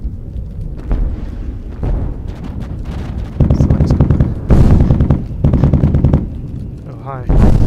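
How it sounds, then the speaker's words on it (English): A bomb blows up in the space shooter Gimbal, with several heavy booming bursts among weapon fire, loud and close, in a busy stretch of game combat. "Oh, you blew up. With a bomb"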